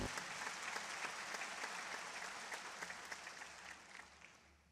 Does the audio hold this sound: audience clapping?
yes